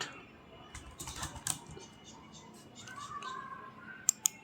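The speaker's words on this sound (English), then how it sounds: "you type your password" Someone types a password on a computer keyboard, producing scattered soft key clicks in short irregular runs, fairly quiet, with a faint murmur of background voice.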